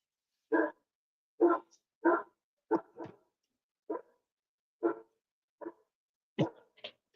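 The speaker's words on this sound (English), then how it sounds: "Uh-oh, dog's going nuts." A dog barks in about ten separate, evenly spaced bursts, moderately loud and fairly close, with short silences between them and no voices.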